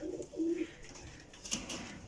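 Pigeons coo softly in a rooftop loft setup in Kotli, Azad Kashmir, with a few low throaty calls heard faintly at a distance and a brief higher chirp.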